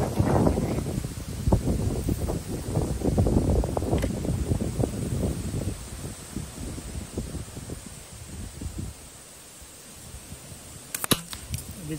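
Wind buffets the microphone at an outdoor rifle range, making a continuous broadband rush and rumble that swells and eases, with a few faint clicks near the end.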